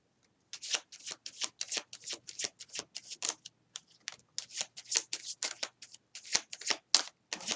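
Tarot cards being shuffled and drawn from a deck, giving a quick run of crisp, close riffling flicks and slaps in an uneven rhythm, fairly quiet with no talking.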